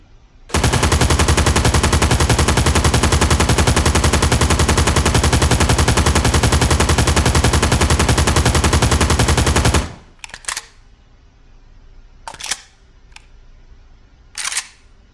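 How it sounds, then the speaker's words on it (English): An RPK machine gun fires a 100-round magazine dump: one long, loud, unbroken burst of rapid shots lasting about nine seconds, then stopping abruptly, leaving a few faint clicks and handling noises. "Switching over to the RPK just so you can get a feel. And again, this is going to be a 100 round mag dump."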